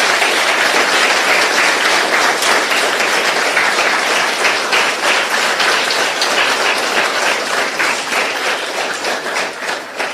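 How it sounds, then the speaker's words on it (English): Audience at a youth event at Pyramid Valley International applauding the organizers, a dense, sustained wash of many hands clapping that fills the whole stretch, tapering slightly toward the end. "Big claps to all the organizers."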